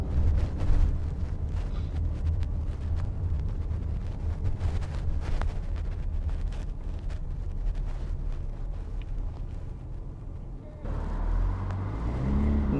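Cars creep down steep, winding Lombard Street in San Francisco, giving a continuous low engine rumble with wind buffeting the microphone, and the sound briefly dips and shifts near the end.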